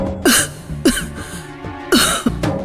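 A woman coughs in several harsh, separate bursts, close and loud, with short pauses between them and no talking.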